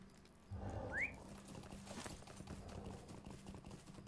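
Horse hooves clip-clop at a steady pace in the online game Lord of the Rings Online, a quiet rhythmic patter with a short rising whistle near the start.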